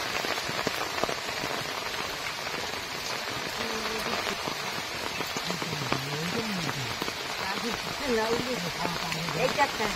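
Heavy rain pours steadily in a broad, constant hiss during a monsoon fishing outing in the Sundarbans, with voices talking over it and rising near the end.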